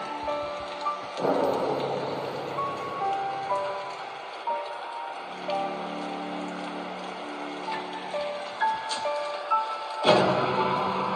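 Steady rain pours throughout a horror video game scene, with a loud thunderclap near the start and another crack near the end, a tonal game melody playing underneath.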